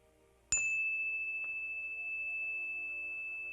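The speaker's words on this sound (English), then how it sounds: "as the sound of the bell fades into the distance" A meditation bell is struck once, giving a sharp bright onset followed by a long, steady ringing tone that slowly fades, with a faint second tap a moment later, in an otherwise quiet room.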